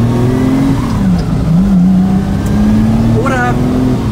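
A 1959 Ferrari 250 GT Pininfarina Coupé engine pulls hard under acceleration, a loud sustained roar whose pitch dips and climbs through the revs, heard close from inside or beside the car.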